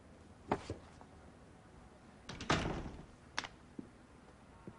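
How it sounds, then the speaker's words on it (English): A door closes in a few faint, scattered thuds and knocks, with one fuller bump in the middle, all quiet against a hushed room. "Close the door."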